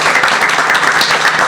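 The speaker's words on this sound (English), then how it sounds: "maybe a warm applause for Sylvia" Warm applause at a senior housing and healthcare investment panel at MIPIM 2022, a dense, steady burst of many hands clapping from a crowd filling the whole moment.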